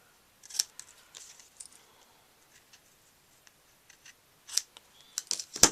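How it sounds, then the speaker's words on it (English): A few crisp scissor snips, close and fairly quiet: one early cut, then a short burst of snipping near the end after a quiet pause. "Get my ribbon scissors here."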